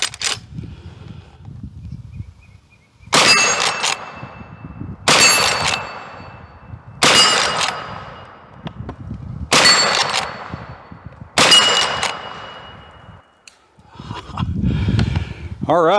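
Five sharp .44 Magnum shots from a Rossi, spaced about two seconds apart, each followed by a bright metallic ring from steel targets, with quiet outdoor range ambience and a brief rustle at the end.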